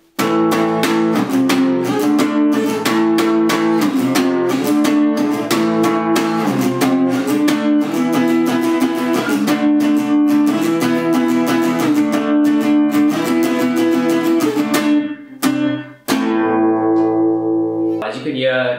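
Electric guitar playing a song in a darker, edgier style, with steady loud strummed power chords over a driving rhythm and a brief break before a final ringing chord.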